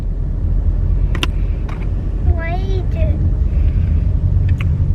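Steady low rumble inside a moving car, loud and continuous, with a voice and an adult speaking briefly over it.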